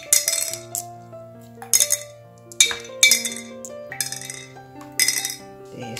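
Small hydroponic stones drop into a glass jar, giving about six clusters of bright glassy clinks and rattles in a loose, irregular rhythm. They are close and clear, with sustained low ringing tones underneath.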